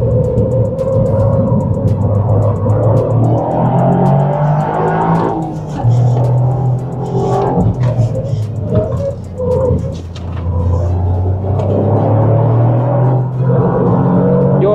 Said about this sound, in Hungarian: Vagyis, hogy visszaváltásnál ad egy gázfröccsöt.